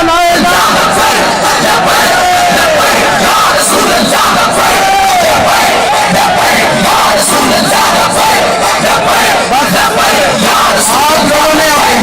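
A large crowd at a TLP sit-in in Faizabad roars a religious Labbaik slogan in unison, loud and continuous, with massed shouting and pulsing chant rhythm filling the whole stretch.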